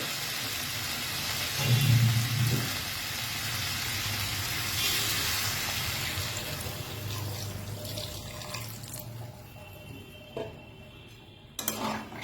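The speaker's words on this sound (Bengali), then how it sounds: "দিয়ে দেবো পরিমাণ মতো জল" Water pours from a tap into a cooking pan in a home kitchen, a steady soft rushing stream that fades, followed by a few faint clinks of cookware.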